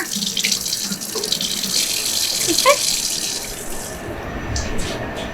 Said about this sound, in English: We then run them under some water.